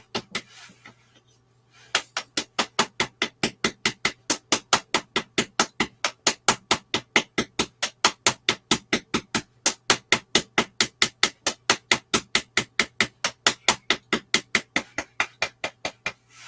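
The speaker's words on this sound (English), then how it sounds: "And you can use the double hammer." A double hammer taps steadily in a fast, even rhythm for a Tongren healing session, each strike sharp and close, continuing alone without speech after a brief quiet start.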